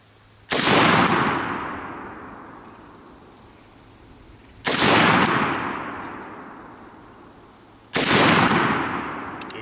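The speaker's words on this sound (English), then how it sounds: "go ahead and pull the trigger and see what happens here." Three loud, sharp rifle shots from an M92 PAP pistol fitted with a Manticore Arms NightBrake, fired outdoors down range, each blast followed by a long decaying echo, spaced about four seconds apart.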